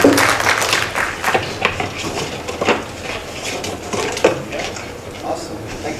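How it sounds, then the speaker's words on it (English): Audience applause at a pinball seminar, a dense crackle of clapping hands that fills the room and persists throughout, with some talk mixed in. "Round of applause, please, for the gentleman."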